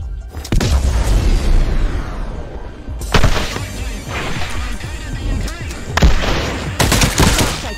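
Gunfire in the VR stealth shooter Espire 1: loud, close bursts of shots that crack out repeatedly over several seconds, with sharp booming onsets between sustained rattling fire.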